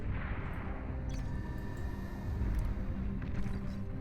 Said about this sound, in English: This bombing run could have done so much more damage if only those bombers had dropped their bombs.